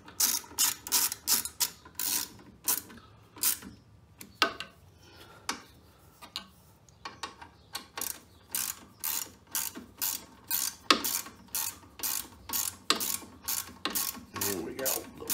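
A ratchet wrench clicks in steady, rapid bursts as bolts are tightened down on a Westinghouse 28000-watt generator during a propane and natural gas conversion kit install, close and loud with brief pauses between runs.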